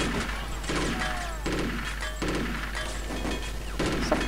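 Gunfire in the video game Chaser, rhythmic bursts of shots recurring roughly every half second to second over a steady low background hum, moderately loud and close.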